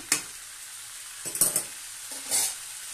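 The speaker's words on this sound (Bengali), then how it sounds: "দেখুন ভালো করে তেলটা মাখিয়ে নেব।" Bengali ghugni ingredients being stirred in hot oil in a home kitchen, a soft steady sizzle broken by a few scraping stirs of a spoon against the pan, close and alone.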